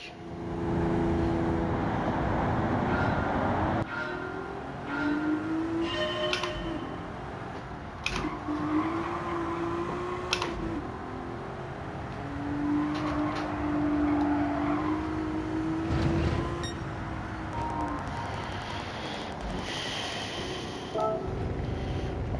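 Race car engine in Gran Turismo 7, revving up and shifting through gears with rising and falling tones, tire and road noise under it; the engine drones continuously for over twenty seconds with no talk.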